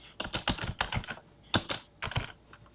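Fingers type quickly on a computer keyboard, a close, clear run of rapid clattering keystrokes in short bursts with brief pauses, no voices.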